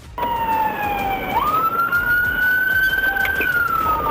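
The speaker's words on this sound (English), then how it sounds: "flee when lights and sirens were activated" A police siren wails loud and close, its tone sliding down then sweeping up into a long sustained rising wail.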